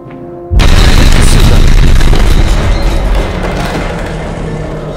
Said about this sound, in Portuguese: É bomba pelo jeito